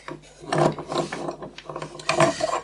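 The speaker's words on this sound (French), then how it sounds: "Je vais appliquer un serrage au couple avec cet outil" Torque wrench tightening the steering tie rod on a Renault 4L: close, rough ratcheting bursts with gritty mechanical clicks and rubbing, repeating in uneven strokes with no talking.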